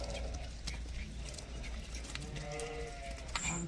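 Light-coloured Arashan lambs at a livestock sale: a single bleat rises in the second half, heard over constant crowd noise and low rumble.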